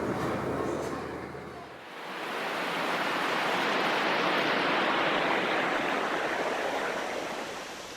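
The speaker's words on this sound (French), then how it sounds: "une haute cascade se déverse sur une forêt primaire aux arbres immenses" Tall waterfall pouring into primary forest with immense trees near Luang Prabang, Laos, a broad steady rushing roar that swells in after a short lull and holds loud and continuous.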